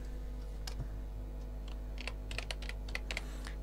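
Keys on a computer keyboard are typed in short irregular bursts of quiet clicks, sparse at first and then quicker, over a constant low electrical hum and no speech.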